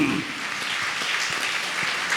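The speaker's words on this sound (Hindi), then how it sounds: "ताली बजा के परमेश्वर को धन्यवाद दीजिए" A church congregation claps together to thank God during a Hindi worship service. The clapping is dense and steady, a close crowd sound that fills the whole short stretch with no talking over it.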